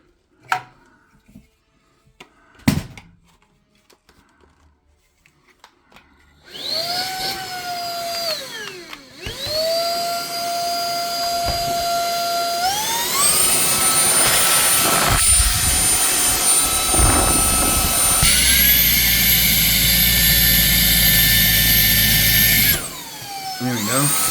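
A Bagotte cordless stick vacuum cleaner is handled with a few clicks, then its motor whines up and runs loudly, stepping higher in pitch as power modes change, before cutting off near the end.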